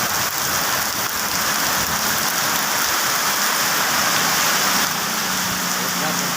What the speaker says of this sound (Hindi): ये पानी पानी पानी पानी बह रहा है।